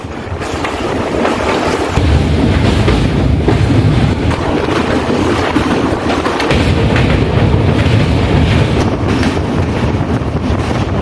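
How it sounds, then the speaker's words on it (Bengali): The 12821 Dhauli Express crosses the Mahanadi railway bridge with a loud, unbroken roar and rumble, mixed with heavy wind buffeting the microphone, the intensity shifting slightly partway through. "এতক্ষণে ট্রেন এসে পৌঁছে গেছে মহানদী ব্রিজের ওপর।"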